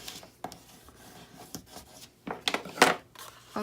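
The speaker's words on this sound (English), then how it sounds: "you're going to go ahead and fold in and burnish all your edges" Folded paper edges of a tissue box being burnished, soft scattered rubbing and scraping strokes up close, growing louder near the end, with no talk.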